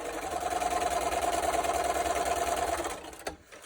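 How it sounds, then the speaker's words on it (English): Sewing machine stitching a quilt block, running in a steady close whir for about three seconds before stopping with a click and a brief mechanical clack. "So I'm going to go ahead and sew this piece."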